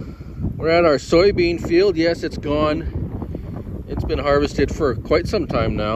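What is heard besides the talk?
wind blowing into microphone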